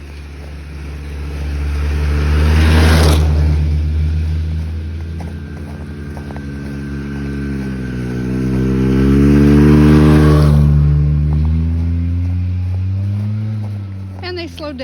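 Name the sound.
snowmobiles (skidoos) driving down a trail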